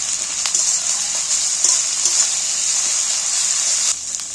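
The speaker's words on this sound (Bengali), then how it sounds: "এবার আমি আদা রসুন বাটাটা তুলে দিই এইবার পেঁয়াজের সাথে ভালো করে" Ginger-garlic paste fries with softened, reddened onions in a pan for a fish roe curry, making a loud, continuous close-up sizzle with faint scrapes and taps of stirring.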